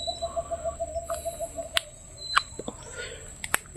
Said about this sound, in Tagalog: Ito yung mga ibon na narinig natin yung boses nila.